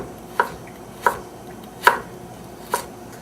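Carrots chopped with a knife on a cutting board, four sharp, separate thunks at uneven intervals, close and clear against a quiet room, with no talk.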